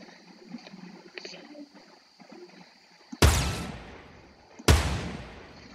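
Two loud, sharp sniper rifle shots crack in Fortnite about a second and a half apart, each with a fading tail, after a stretch of quieter game sounds and soft footsteps.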